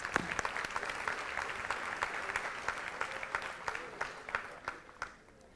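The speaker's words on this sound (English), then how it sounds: "Let's give him another big round of applause" A school board meeting audience applauds a young boy being honored, a steady wash of many hands clapping at moderate distance that gradually thins and fades out over several seconds.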